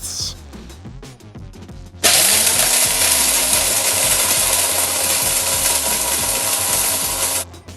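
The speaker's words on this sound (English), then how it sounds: "Oh, we should probably make the coffee. We gotta grind it." An electric grinder grinds coffee beans for a from-scratch devil's food cake, a loud, steady whirring roar that starts abruptly and runs continuously for about five seconds before cutting off.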